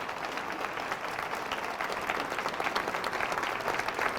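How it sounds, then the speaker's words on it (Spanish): A congregation at a Catholic Eucharist and rosary gathering breaks into sustained, dense applause, a steady crackling roar of many hands that builds slightly louder over several seconds. "Fuertes aplausos a Jesús"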